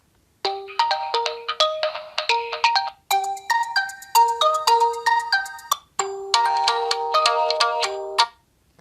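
Telegram's ringtone options play back from a mobile phone, a bright electronic melody of quick repeated tonal notes in three short bursts separated by brief gaps, loud and clear with no talking.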